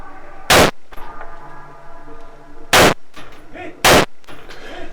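Three sharp rifle shots ring out at irregular intervals, fired with iron sights from a dark room at targets about 100 meters away during a competition stage, each crack loud and close with a short echo trailing off.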